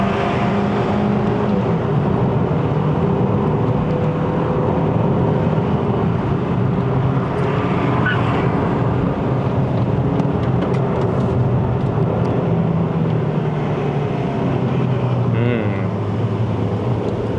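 A 2016 Kia Optima K5 facelift climbs a mountain road toward Genting with its automatic gearbox shifting, heard from inside the cabin as a steady, loud engine and road drone that holds through the whole stretch.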